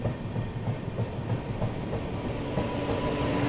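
Gomti Express train approaching slowly under caution, a steady low rumble of rolling stock with faint clickety-clack, continuous and fairly close, no voices.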